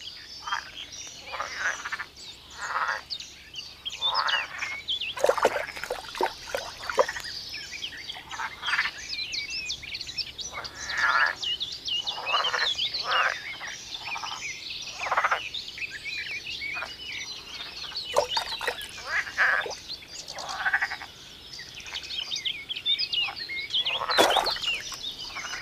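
Green frogs croak in a dense breeding-season chorus, short rasping calls repeating steadily and overlapping, with a few louder croaks standing out close by against a constant background of calls.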